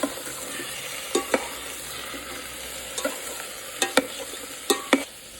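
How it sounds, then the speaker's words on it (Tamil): Vegetables sautéing in a pot for a one-pot dorm-style meal give a steady low sizzle, with several sharp clinks and scrapes of stirring spaced through the clip and no voices. "சாட்டே பண்ணு."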